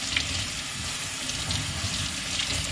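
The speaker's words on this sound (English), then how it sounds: "you'll see all that black water coming out of there" Tap water runs steadily, rinsing carbon media from a Fluval FX6 canister filter in a continuous splashing wash.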